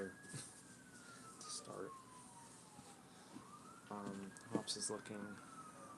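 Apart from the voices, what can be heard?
police sirens outside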